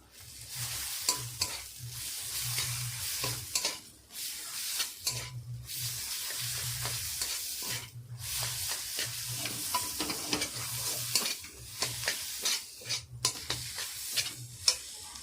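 Masala spices with half a spoon of garam masala stir-fried in a pan for potol putli, steady close sizzling with a repeated scraping stir of the spoon against the pan throughout, no voices.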